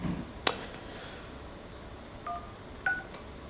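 Three short telephone keypad tones beep separately, spaced apart, after a brief click, fairly faint against a quiet background.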